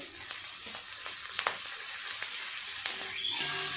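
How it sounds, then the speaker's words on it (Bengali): Tomato, capsicum and onion are stir-fried in a pan, a soft sizzle broken by light clicks of a spatula stirring the vegetables, close and fairly quiet, with no talking. "টমেটোটা দিয়ে আর একটু এইভাবে নেড়ে চেড়ে নেব"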